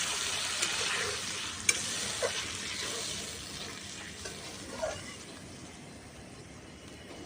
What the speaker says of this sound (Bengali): এখন আমি এখানে দিয়ে দেবো অল্প একটু জল